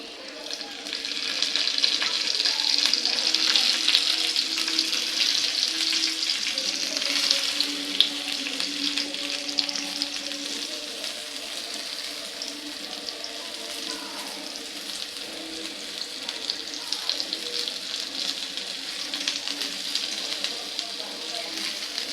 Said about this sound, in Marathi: आता आपण ही जी भेंडी आहे ती फ्राय करायची आहे